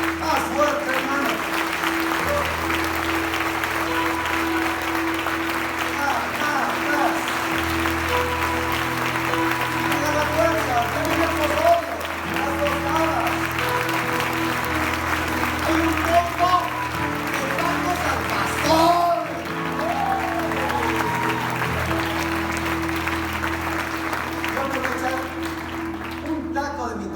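Loud applause from a church congregation fills the whole stretch, steady and dense, with voices and scattered shouts mixed in and a low sustained musical tone underneath.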